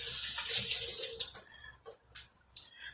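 Green tomatoes are rinsed under a running kitchen tap, a steady hiss of water that breaks into splashy, uneven gushes as the fruit moves through the stream, close by with no voices.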